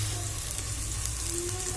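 Ginger garlic paste sizzles steadily in a hot pan, a close, continuous crackling fry with no voices.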